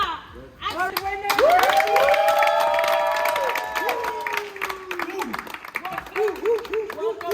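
An audience applauds and cheers at an influencer trip challenge day in a villa, loud sustained clapping with shouts, and a voice speaking over the crowd as the applause tapers into scattered claps.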